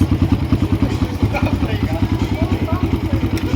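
A Kawasaki KLX 140 dirt bike engine idles with a steady, rapid putter, close by, with faint clatter over the low rumble.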